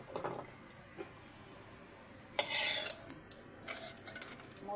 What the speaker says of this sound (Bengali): মরিচটা সুন্দর করে ভেজে আমি তুলে নিচ্ছি।